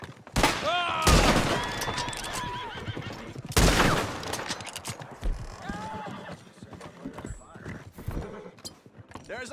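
Gunfire cracks out in a western film scene: two loud shots stand out amid shouting men, whinnying horses and galloping clip-clop hooves.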